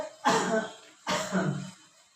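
Two harsh coughs close to the microphone, separated by a short pause, with no talking.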